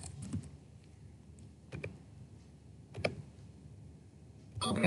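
Light typing on a computer keyboard comes in a few sparse, quick clusters of clicks separated by quiet gaps, close and moderately soft, with a busier burst right at the end.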